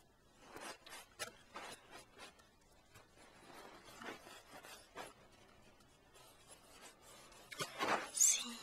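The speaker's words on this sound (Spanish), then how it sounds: "estas toallitas para limpiar tu carita" Cleansing wipe rubbed over a face in a close, quiet ASMR makeup role-play, giving soft repeated rasping swipes in irregular bursts, with a louder crinkling rustle near the end.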